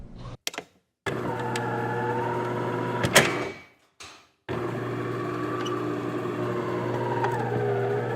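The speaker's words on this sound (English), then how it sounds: "now you can screw into the fasteners to fix this panel." Fasteners screwed in to fix a panel on a Becker Engineered Systems cooling tower: short bursts of a whirring powered driver split by brief silences, then a longer steady motor whine, close and alone.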